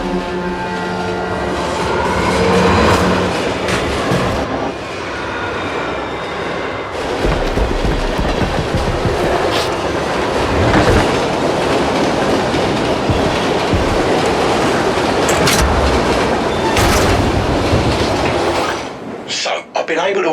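Private VIP train rolling on rails in The Ascent video game, a loud steady rumble with rhythmic clatter and occasional metallic squeals, with voices speaking over it throughout.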